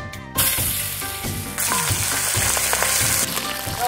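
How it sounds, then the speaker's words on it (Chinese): Ginger slices and garlic cloves hitting hot oil in a wok before braising yellow croaker, giving a loud, steady close-up sizzle throughout with occasional stirring clatter, no talking. "把这姜片跟蒜籽先炝一下"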